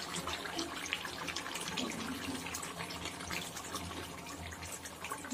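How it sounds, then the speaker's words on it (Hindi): Water pours from a bottle into a cooking pan of shimla mirch kadahi chicken over high heat, a steady splashing, hissing stream that runs continuously and moderately quiet throughout. "इसमें हम पानी डाल देंगे पहले थोड़ा सा"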